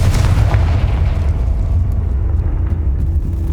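A Confringo fire spell bursts in Hogwarts Legacy gameplay on PS5 as a loud, close, booming explosion with a deep rumble that slowly fades, heard alone.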